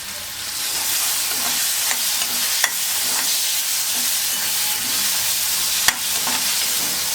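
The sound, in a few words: masala with tomatoes frying and being stirred in pan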